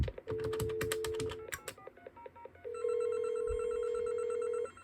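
Telephone call routed through a custom TDM switch built on Dialogic voice boards: keyboard typing and dialing tones first, then a steady electronic ring tone that holds unbroken for about two seconds.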